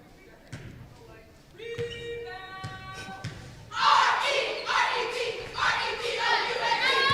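Cheer team and crowd at a Maryvale vs SPSG varsity basketball game, with ball bounces and thuds, a sustained tone, then a loud surge of shouting and cheering that keeps going, with people talking over it.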